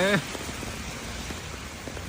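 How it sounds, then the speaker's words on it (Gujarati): Heavy rain pours steadily in a dense, even wash of noise, close and continuous, with a brief voice at the very start. "એકદમ જોરદાર વરસાદ આવે છે."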